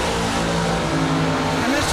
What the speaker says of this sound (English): And Mr. Taylor Rich making all that noise traveling down track.